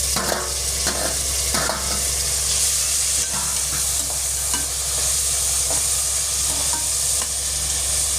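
Tomato and green chilli sizzle loudly with softened onions in an oiled pan for prawn biryani. A continuous frying hiss runs under irregular, close scraping strokes as the mix is stirred.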